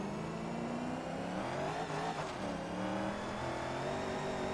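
A Corvette in Forza Motorsport 2 accelerates hard in fourth gear, its engine note loud, steady and rising for the whole stretch.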